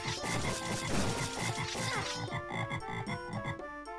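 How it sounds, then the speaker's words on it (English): Frogs croak in Zelda Classic's Time After, a rapid run of pulsing, bouncy croaks over chiptune music, moderately loud and alone with no talking. "Shut up! Stop with the croaking!"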